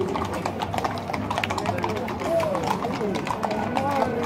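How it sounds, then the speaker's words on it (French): Several horses' hooves clip-clop steadily on hard ground, close by, in a parade of horse-drawn carriages, with French voices talking over them and a brief whinny. "On a la famille Co avec ses chevaux"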